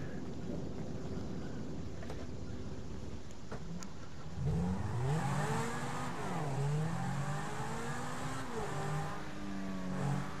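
A car driven in the video game GTA V, engine rising in pitch as it accelerates, loud and close with revving sweeps and no talk.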